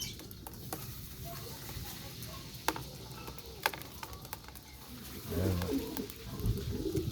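Pigeons cooing where they gather to feed, soft low throaty coos that swell near the end alongside scattered taps and light rustling close by.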